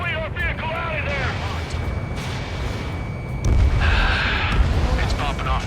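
Anti-air guns and explosions in Ace Combat 7 rumble continuously beneath radio chatter and voices, with a heavier burst of booming blasts partway through.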